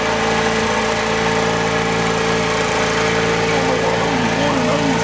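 A Detroit diesel engine powering an air start AC unit runs continuously at a steady, loud, tonal drone with constant vibration, close up and alone throughout.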